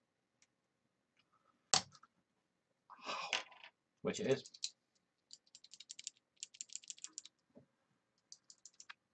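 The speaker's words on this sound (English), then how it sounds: "it feels like a Cherry keyboard switch" Repeated light clicking of a cheap Cherry-style keyboard switch, quick bursts of small taps in irregular runs, close and fairly quiet, with brief speech and a few louder handling noises.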